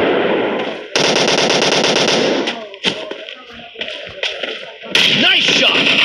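Rapid automatic gunfire from a team deathmatch video game, loud dense bursts of shots and impacts, broken by short pauses and scattered single pops, with a voice briefly heard between volleys.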